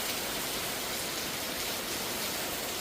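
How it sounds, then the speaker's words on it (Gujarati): Heavy monsoon rain pouring down in Surat district, Gujarat, a dense steady hiss of water without pause or voices. "અલગ અલગ વિસ્તારમાં વરસાદની જે છે શરૂઆત થઈ ગઈ છે"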